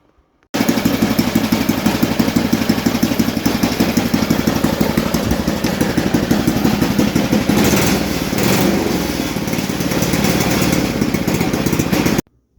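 Engine of a 1977 Toro snowblower running steadily at a close, loud, even idle with a continuous chugging rhythm and a slight dip in pitch midway, no voices.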